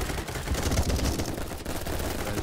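F2000 assault rifle firing in the video game BattleBit Remastered: a dense, continuous burst of rapid automatic shots, loud and close, with no talking.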